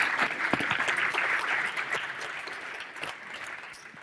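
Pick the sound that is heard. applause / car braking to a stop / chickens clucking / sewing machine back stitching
applause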